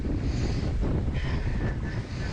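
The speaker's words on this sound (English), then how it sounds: "And the strongest wind" Strong wind roaring over the ocean during a paddle race, a continuous low rumbling buffet against the microphone with a faint rush of water, close and steady, no talking.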